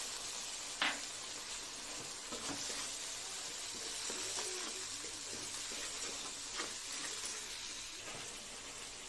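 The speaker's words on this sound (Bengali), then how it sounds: "গুঁড়ো মশলার জন্য একটু জল দিয়ে দিলাম।" Ground spices with a splash of water sizzle steadily in a pan while cooking a chickpea curry, a soft continuous frying hiss with a few faint clinks, no talking.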